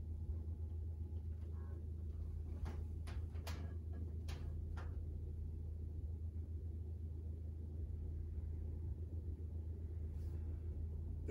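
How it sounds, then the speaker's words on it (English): A 52-inch Emerson Premium/Casablanca Classic ceiling fan in antique brass runs at medium speed, its motor giving a steady low hum with layered harmonics. A few faint ticks sound midway through. "if you listen closely, you can hear some motor harmonics"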